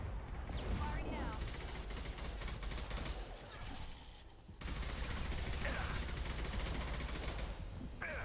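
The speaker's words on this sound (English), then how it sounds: "Firing a high-impact shot!" A heavy weapon firing in Mass Effect 2, loud sustained bursts of gunfire and blasts amid combat noise, with a brief dip midway before the barrage resumes at full force.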